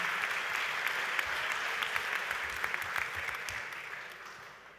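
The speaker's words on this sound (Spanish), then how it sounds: "Así que un fuerte aplauso para ella." Applause from an audience at the Pacific leaders summit on Rapa Nui, a steady wash of many hands clapping that carries on evenly for several seconds and fades slightly toward the end.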